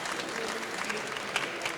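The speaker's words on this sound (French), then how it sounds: "Je pense qu'on peut applaudir les membres de la maison d'édition." Quiet applause from a seated audience at a round-table talk at the Livre Paris 2019 book fair, a faint, even rustle of clapping with a few sharper claps standing out.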